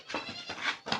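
A goat bleats three times in quick succession, each a short wavering cry, at moderate distance and fairly faint, with no talking.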